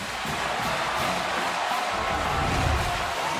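Football stadium crowd roaring after a Florida touchdown against Alabama, a dense, steady wall of cheering at constant loudness filling the whole stretch.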